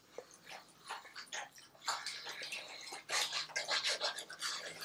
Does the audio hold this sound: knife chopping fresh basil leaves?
no